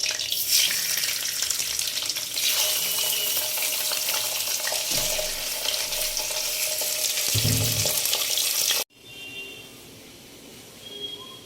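Pomfret fish fries in oil in a wok with a loud, dense, steady crackling sizzle that runs unbroken for several seconds. Then it cuts off abruptly, leaving quieter room sound.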